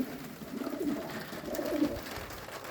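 Pigeons cooing softly in low, rolling calls, a few repeated coos over a steady background hum.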